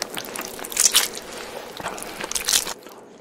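Raw octopus is eaten up close in a Korean mukbang, with wet squishing and crunchy bites coming in a few short bursts over a quiet background.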